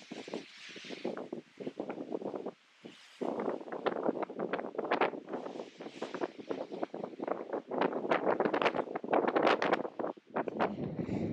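Wind buffets a microphone on an exposed mountain ridge near Mizpah Hut on New Hampshire's Crawford Path, where the trees are stunted. Loud, close gusts of rumbling roar come in uneven bursts, with brief lulls between them and no speech.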